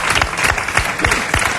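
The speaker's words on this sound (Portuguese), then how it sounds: "Mais um grande aplauso." A television studio audience on a Portuguese talk show claps vigorously, with distinct individual hand claps standing out close by over a fuller burst of applause.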